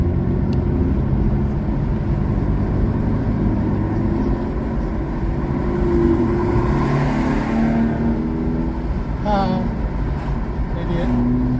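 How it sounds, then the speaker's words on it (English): A car engine revs up from behind, the rising drone swelling and fading over steady road noise from inside a moving vehicle. "idiot behind me revving up"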